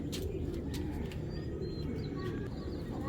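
Roadmaster tournament pigeons coo softly in repeated low murmurs, with a few thin chirps and tweets over a constant background hum, all fairly faint.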